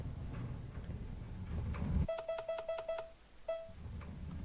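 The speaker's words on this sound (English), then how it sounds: "There's a little beeping sound to inform you that you gotta make your decision right now whether you want to stay or not." A metro train's stop warning beeps in the city-building game TLS4: five quick, evenly spaced electronic tones, then a single later beep, clear over a quiet rumbling background.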